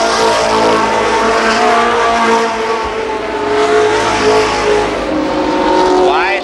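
ARCA race cars roar around Columbus Motor Speedway in a loud, continuous engine drone with pitch sweeping as cars pass, a brief tire squeal near the end, while an announcer calls the race over it.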